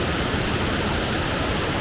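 Raven Cliff Falls, a waterfall in South Carolina, pours in a steady, dense roar of rushing water, close and loud, with no pauses or distinct events and no voices.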